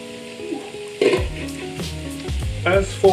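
Bandari harbour-style sausages fry in a pan with a loud, close, continuous sizzle, broken by occasional stirring scrapes and spatters, with no one talking.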